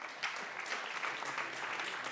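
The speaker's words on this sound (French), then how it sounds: "Merci donc d'accueillir nos deux invités sous vos applaudissements" An audience applauds to welcome two guests at a talk on endangered species, dense continuous clapping of moderate loudness filling the whole moment without any speech.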